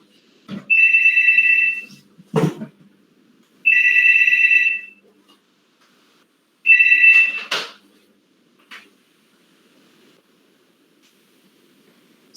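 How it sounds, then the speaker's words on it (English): A mobile phone rings during a lecture in three bursts of an electronic ringtone, each about a second long, separated by rustling knocks and short pauses in an otherwise quiet room. "Switch off the phone."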